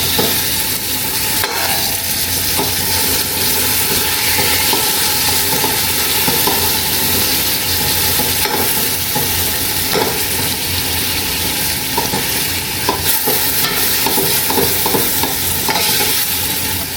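Onion and tomatoes sauté together in a pot for chicken sinigang, a loud, dense, unbroken sizzle close up with faint stirring underneath and no talk.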